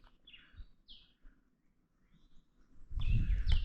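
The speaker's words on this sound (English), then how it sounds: "Must be a forest buzzard." A forest buzzard calls from woodland near Cape Town with a few brief, thin, high cries. Near the end a burst of nearby rustling or wind noise covers them, and no voice is heard.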